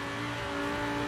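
A Porsche 914/6 racing car in Forza Horizon 4 holds a steady, loud engine drone with a tonal whine throughout a short stretch as it powers through turns.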